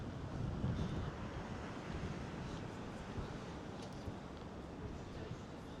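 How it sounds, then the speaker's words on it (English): Steady strong wind buffets the microphone with a continuous low roar on the Upper West Side of New York City near Lincoln Center, gusting slightly louder near the start. "It's quite windy"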